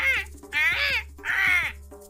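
A cartoon bird caws three times in quick succession, harsh crow-like calls that are loud and close over a low steady hum.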